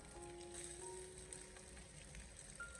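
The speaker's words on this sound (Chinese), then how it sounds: "这芋头糕呀下锅以后，给它直接的开小火，慢慢的进行煎制就可以" Taro cake frying in a pan over low heat gives a steady, soft sizzle that stays even and gentle all the way through, fairly quiet and close, with no talking over it.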